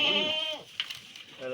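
A goat that fell into a bathroom tank bleats during its rescue, giving one long wavering bleat, then a pause with scuffling noise, then a shorter bleat at the end, close and clear.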